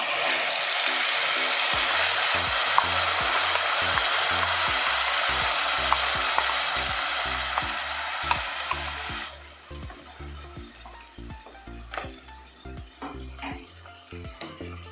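Chopped tomato, onion, ginger, garlic and green chilli sauté in oil, a loud sizzle under rhythmic scraping strokes of a spatula against the pan, the hiss easing in the later seconds while the stirring carries on.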